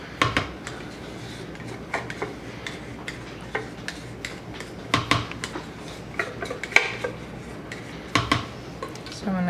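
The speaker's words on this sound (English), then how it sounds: "So I'm going to go ahead and stir it." Red mica colorant is being stirred into a soap mix with a utensil, giving irregular light clinks and taps against the container, close and fairly quiet over soft room noise.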